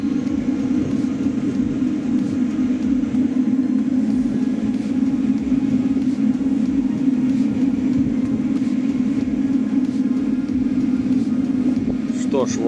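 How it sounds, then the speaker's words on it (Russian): A train pulls into Minsk railway station with a steady, heavy low rumble and hum that stays constant and fairly close throughout. "вот и прибывает мой поезд"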